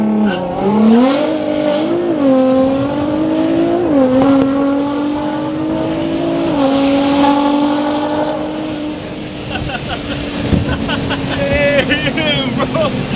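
A Nissan GT-R with straight pipes launches and accelerates hard, its loud, close exhaust note climbing in pitch through several gear changes before fading, with voices and shouting joining toward the end.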